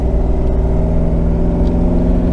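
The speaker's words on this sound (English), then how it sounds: "You can hear the compression, but when you get on it, it's Dr. Jekyll and Mr. Hyde." A heavy Jeep with an LT1 engine and 8L90 eight-speed transmission drives under power, giving a loud, steady, close engine drone with rich low harmonics and no talking.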